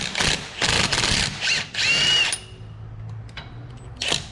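A power drill or impact tool runs in several short bursts while unbolting the five bolts that hold a wheel bearing to a steering knuckle, loud and close, with a pause and quieter mechanical clicks near the end.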